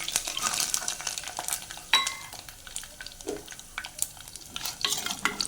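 Garlic frying in oil for garlic kuzhambu gives a light crackling sizzle with scattered spoon scrapes and taps against the pan, one sharper metallic clink, close and fairly quiet, no voices.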